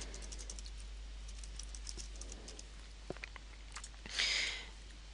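Quiet, rapid clicking of keys on a computer keyboard, short irregular bursts of taps up close, ending in a brief louder rustle.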